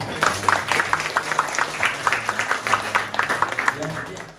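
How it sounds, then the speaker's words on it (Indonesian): Students at a school scouting-program session clap in a loose, uneven rhythm of separate claps close by, tapering off toward the end, with talk underneath. "Tepuk tangan dulu."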